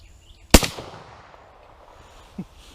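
A .303 British rifle fires a single flat-nose cast bullet outdoors at a 50-yard target. One sharp, loud crack decays quickly, and a fainter thump follows about two seconds later.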